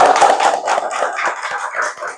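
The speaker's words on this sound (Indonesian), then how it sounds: "Tepuk tangan untuk Mbak Sus." Classroom applause for a student during a Quran lesson, a dense patter of many hands clapping close by for about two seconds, fading slightly toward the end.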